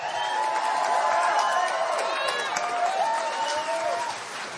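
A rally crowd at a Donald Trump town hall in Wausau, Wisconsin claps and cheers, a loud, dense roar of clapping and shouting voices that keeps going throughout and thins slightly near the end.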